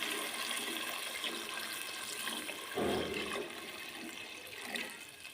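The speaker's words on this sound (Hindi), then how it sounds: "4 गिलास पानी डालेंगे।" Four glasses of water pour into a pot of chicken pulao in a steady gushing stream, close and continuous, with a brief louder splash partway through.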